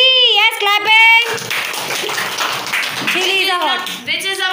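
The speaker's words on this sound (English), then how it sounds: "Yes, clapping." Children clap together in a classroom in a short burst of hand claps, mixed with young voices talking before and after.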